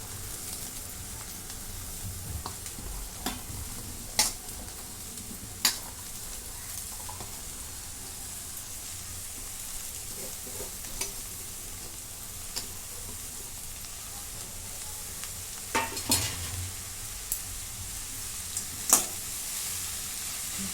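Finely chopped spring onion greens, washed and drained, sizzle and fry in a pan, with a steady hiss broken by scattered clicks and stirring scrapes, close and alone without talk.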